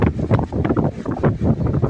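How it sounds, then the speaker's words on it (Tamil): A strong wind with rain in Theni, heard as a steady, loud roar of gusts buffeting close to the microphone for a couple of seconds. "ஏத்தாடி சரியான காற்று."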